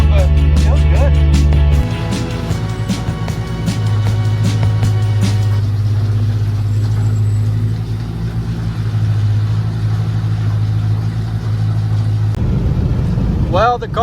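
A Ford Mustang GT500 with fresh transmission work runs with a loud, steady low engine drone and shifting revs, heard close up from start to finish, with faint talk near the end.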